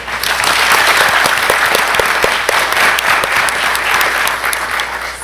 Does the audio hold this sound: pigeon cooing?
no